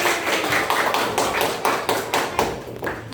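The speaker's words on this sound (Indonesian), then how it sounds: "tepuk tangan semuanya" Pupils in an elementary classroom clap their hands together in a steady round of brisk, close claps, some louder accents standing out, with no talking.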